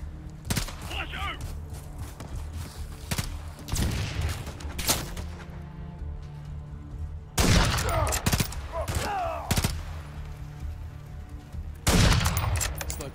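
Video game shootout with multiple snipers using machinery as cover: repeated loud gunshots and bursts of fire, some clustered volleys, spread across the scene with faint voices in between.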